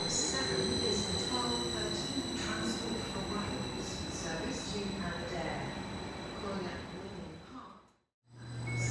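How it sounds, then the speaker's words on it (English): A Transport for Wales Class 756 train pulls into Cardiff Central, a steady rumble of rolling wheels and motor whine under a continuous hum, with platform noise around it, ending in an abrupt cut and a brief low thump. "Here is the 1108 train from Merthyr Tydfil to Aberdare, pulling into Cardiff Central"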